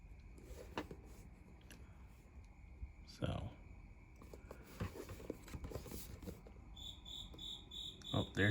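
Cricket chirping indoors, a steady high trill that grows clearer toward the end, mixed with clicks and handling noises from someone sorting model kits; brief talk occurs.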